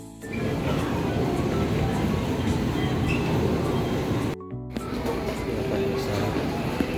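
An LRT train arriving at Recto station gives a steady rolling rumble and rail noise inside the carriage. There is a brief dropout partway through, then the moderate, continuous sound resumes.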